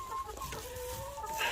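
Chickens cluck in a chicken run being winterized, a steady close stream of soft clucks and calls with one sustained tonal call drawn out across the middle.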